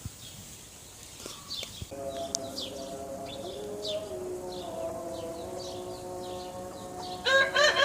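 Chickens and a rooster in a rural yard in Iraq, with a steady crow-like tonal call held over several seconds, scattered clucks and chirps on top, and a louder burst of calls near the end.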